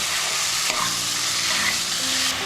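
Chicken mince and spices fry hard in a pan for a jackfruit dish, a loud continuous sizzle with a few soft scrapes of stirring, close up and with no talking.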